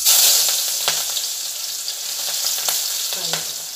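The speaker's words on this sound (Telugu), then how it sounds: "ఇప్పుడు నూనె వేడెక్కిన తర్వాత గార్లిక్ అండ్ చిల్లీ వేయాలి." Garlic and chili frying in hot oil for Bhutanese green chili with cheese, a steady close sizzle with a few stirring scrapes and crackles breaking through.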